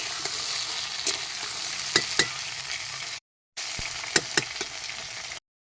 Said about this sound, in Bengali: পটলটা আমি আলাদা ভেজে নিই, তাহলে ভালো লাগে খেতে।